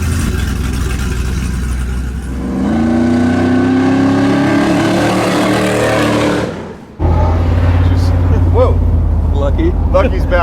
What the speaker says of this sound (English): back there spinning tires